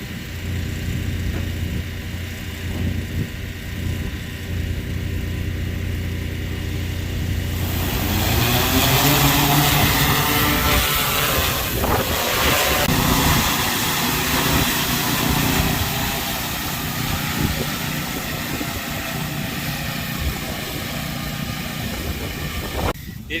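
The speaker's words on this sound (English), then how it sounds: "The drone is fine. It can handle the wind, no problem." An agricultural spraying drone flies over a field on a windy day, its steady motor drone and whine running continuously under rumbling wind buffeting, with a brighter, louder stretch partway through.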